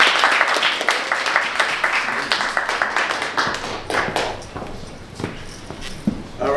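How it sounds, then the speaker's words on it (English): Applause from a crowd at a brotherhood meetup, loud dense clapping that thins into scattered individual claps and fades toward the end before a brief pickup. "clap it up for Jerome."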